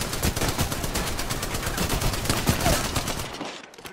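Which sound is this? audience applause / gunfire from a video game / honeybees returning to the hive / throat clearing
gunfire from a video game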